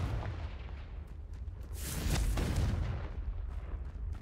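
A booming fire blast from the Confringo spell in Hogwarts Legacy, a swelling roar that peaks around the middle and trails off amid ongoing combat rumble, with no talking.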